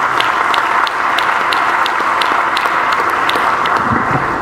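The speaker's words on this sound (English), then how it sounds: "please give her a round of applause" Sustained applause from an audience, dense clapping that holds steady from start to finish with a faint crowd murmur beneath.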